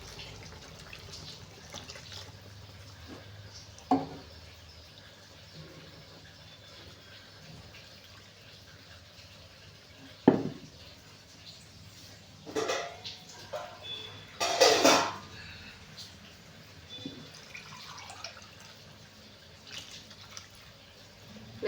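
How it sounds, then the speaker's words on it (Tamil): Water is poured into a vessel in scattered short bursts with drips and splashes, quiet and close, separated by near-silent pauses. "தண்ணி ஊற்றிக்கலாங்க."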